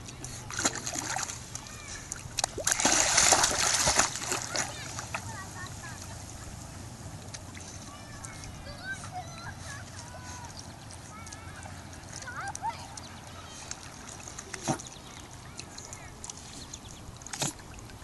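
A dog swims and splashes in open water, with a burst of louder splashing early on, then quieter paddling and lapping while a person talks nearby.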